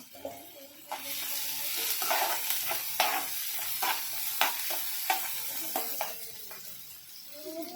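Sliced onion frying in hot oil for a dry chicken dish, a steady close sizzle broken by repeated scrapes and clinks of a spoon stirring in the pan, with no voices.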